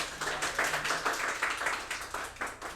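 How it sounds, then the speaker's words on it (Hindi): Scattered audience clapping at a free seminar for assistant professor exam preparation, a handful of claps in a loose rhythmic run, fairly close and moderate in level. "ताली बजाया करो यार।"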